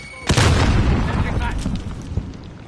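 A grenade blast in Modern Warfare multiplayer played in PSVR: a sudden loud boom followed by a long rumbling decay, with voices talking over it.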